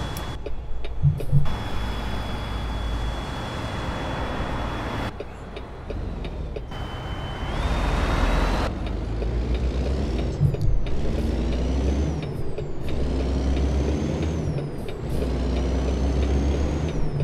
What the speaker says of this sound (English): Good sound of Jake brake.